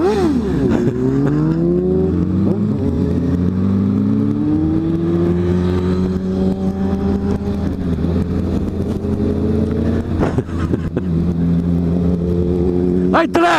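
Honda CB650F motorcycle engine, loud and close, revving up and down in rising and falling sweeps, with a few sharp blips near the end and people talking over it.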